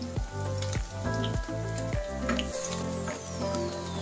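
Onion and garlic sizzle in olive oil in a pan, a steady close frying hiss with soft crackles that run throughout and carry on without voices.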